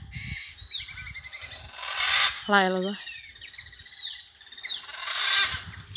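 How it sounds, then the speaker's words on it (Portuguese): Several harsh, raspy macaw calls ring out in bursts. A person speaks briefly between and over them. "Olha o tanto de arara."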